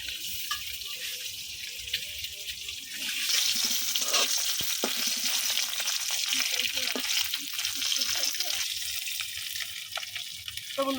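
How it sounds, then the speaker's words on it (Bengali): Duck eggs frying in oil with turmeric in a wok, a steady close sizzle running throughout with scraping and stirring noises, growing louder partway through. "এই যে ডিমগুলো আমি কালার করে ভাজা নিচ্ছি।"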